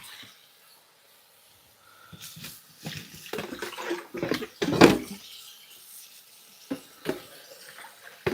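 Chopped greens are rinsed in water with a food processor nearby, giving irregular splashes and sloshing bursts of moderate loudness, including one stronger splash, after a quiet opening.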